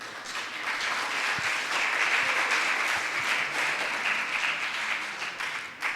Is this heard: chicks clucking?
no